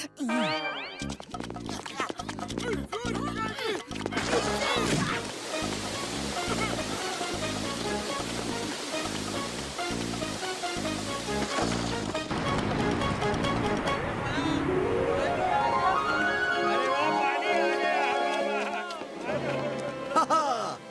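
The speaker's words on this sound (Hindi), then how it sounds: "झरने का पानी आ गया।" Rushing water pours loudly and continuously, a dense roar that swells and persists, with a few sharp knocks at the start.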